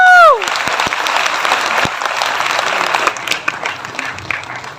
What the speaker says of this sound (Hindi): एक बार जोरदार तालियां हमारी नारी शक्ति के लिए